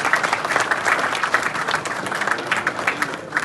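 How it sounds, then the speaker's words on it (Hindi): Audience at an Indian community gathering in Canada claps steadily, a dense, continuous round of applause throughout with no speech over it. "एक बार ताली बजा दो भाई।"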